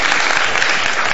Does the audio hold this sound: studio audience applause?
yes